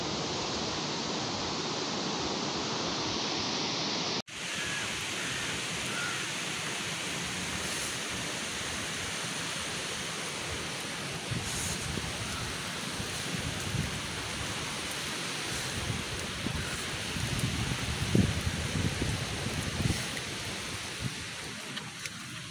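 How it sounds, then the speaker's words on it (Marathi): Heavy rain pours steadily near the Bhivtas waterfall in Surgana, a dense, even hiss that starts partway in after a brief darker stretch and then holds throughout, with no talking. "पावसाने वाट लावून टाकली रे"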